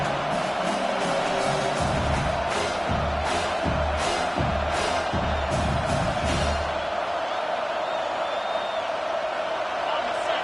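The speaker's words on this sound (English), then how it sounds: "Here comes this home crowd as the defense tries to get off the field on 3rd down." Home crowd at a Texas football game roars steadily as the defense tries to get off the field on third down, a broad continuous din running under a commentator's voice.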